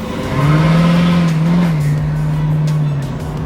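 A car with its exhaust fallen off, driving with no exhaust pipe, revs loudly and steadily for about three seconds, a raw droning engine note that rises and holds close up, with no talking.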